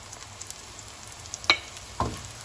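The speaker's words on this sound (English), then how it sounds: "While the onion is getting sauteed, we are adding in 1 stick of lemongrass and few leaves of curry leaf" Onion sautés in a pan with a stick of lemongrass and a few curry leaves for mutton masala, giving a soft steady sizzle with two brief clinks from ingredients dropping in or a spoon tapping.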